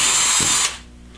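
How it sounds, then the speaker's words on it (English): A power drill with a kit-supplied bit bores a hole in an automatic transmission separator plate during a Turbo 400 rebuild, a loud close whine that cuts off abruptly as the motor spins down. "We're going to drill out this hole right here with the drill bit supplied in the kit."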